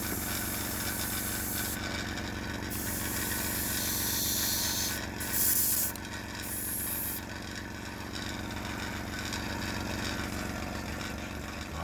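A cheap airbrush fed by a budget air compressor at about 15 psi sprays paint in short, hissing bursts over the steady low hum of the running compressor.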